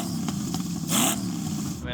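A Lamborghini with an LS V8 engine swap, warmed up after earlier exhaust popping, idles with a steady low rumble and a brief rise in revs midway while someone talks over it.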